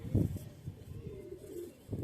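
Low, rolling coos from Shahjahanpuri pigeons, a breeding pair kept close at hand, rise in short bursts at the start and end with a softer murmur between.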